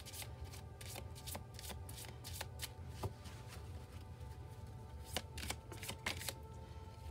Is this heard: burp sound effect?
no